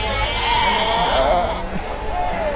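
Dormas sheep bleat at a livestock market in Banyuwangi, East Java, a few wavering calls rising over a busy, noisy background with voices and bustle.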